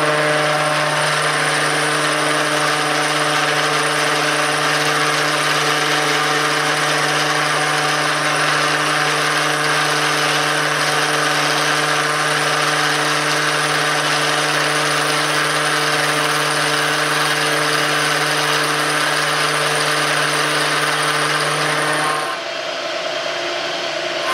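A metal lathe takes a cut of about thirty thousandths with a tool post, giving a loud, steady machining whine with constant tones that drops off abruptly near the end.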